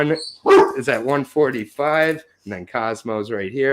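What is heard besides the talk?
dog barking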